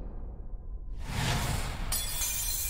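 In Pokémon Scarlet & Violet a loud shattering effect bursts in after a second, a sharp glassy crash that spreads into a bright, sustained crackling wash with a fresh sparkling layer near the end.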